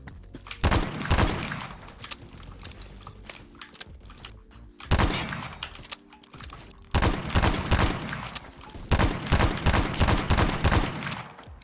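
Red Hawk 44 revolver fired in the Roblox game Phantom Forces, loud sharp shots in scattered bursts amid rapid gunfire and clicking, with brief lulls between volleys.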